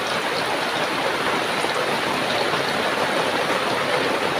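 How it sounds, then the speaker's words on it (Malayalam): Rain falling steadily outside a home kitchen, a dense, even hiss that stays constant and fairly loud from start to finish with no voices. "മഴ പെയ്യുന്നുണ്ട് കേട്ടോ."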